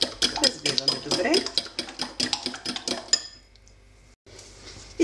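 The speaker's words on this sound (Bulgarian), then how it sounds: "Разбиваме добре." Egg and yogurt batter being whisked in a bowl, a quick run of clinking, scraping strokes for about three seconds, then a brief quiet pause before a final clatter.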